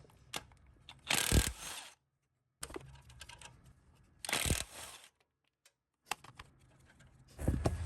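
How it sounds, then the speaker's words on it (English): A DeWalt 1/2 inch drive impact gun backs out 17 mm caliper bolts on a Toyota 100 Series Land Cruiser, firing in three loud hammering bursts of about a second each, with short ratchety clicks and pauses between them. "I'm going to use my big DeWalt 1/2 inch drive gun to get those caliper bolts out."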